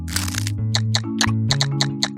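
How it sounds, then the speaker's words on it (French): Raw carrots are bitten and chewed close up, a sharp crunch followed by a rapid series of about eight crisp, evenly spaced crunches over a low steady background hum. "Ouais, un bon croquant."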